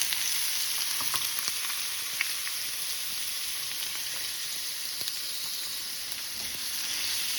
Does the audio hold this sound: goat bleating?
no